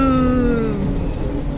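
Heavy rain bursts in as a sound effect in a horror story: a loud, dense wash of downpour with a low rumble, layered under eerie descending tonal sweeps.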